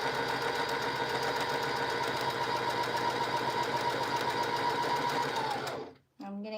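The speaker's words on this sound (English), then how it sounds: "Make sure your presser foot's down and you're ready to go. We're going to straight stitch all the way down." A sewing machine straight stitching fabric for a primitive farmhouse faux feed sack, a loud steady rapid whir running continuously for several seconds before stopping abruptly.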